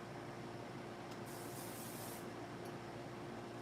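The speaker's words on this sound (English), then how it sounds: "hit some hairspray, right?" A single short hiss of hairspray is sprayed onto a teased wig, lasting about a second over a steady background hum, quiet and close.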